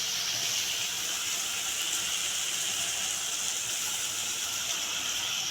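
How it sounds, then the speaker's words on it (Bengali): Water poured into frying spice masala for potatoes, giving an even, loud, unbroken steamy hiss throughout with no talk. "তখন আমি সামান্য একটুখানি জল দিয়ে দেবো এর মধ্যে, যাতে করে আলুগুলো সেদ্ধ হয়ে যায়।"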